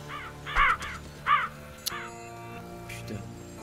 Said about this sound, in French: le corbeau il m'a foutu les boules